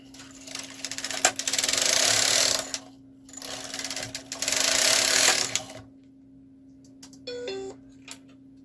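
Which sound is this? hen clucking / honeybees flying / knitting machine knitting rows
knitting machine knitting rows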